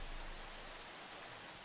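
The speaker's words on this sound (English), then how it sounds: "That's the sound of the river, but it's very loud." Flowing river water in Minecraft rushes as a steady, broad, noisy wash, fairly quiet and unbroken, with no talk.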